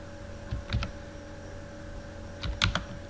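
Short bursts of keystrokes on a computer keyboard while HTML code is typed, two clusters of quick clicks separated by a pause, close and clear over a quiet background hum.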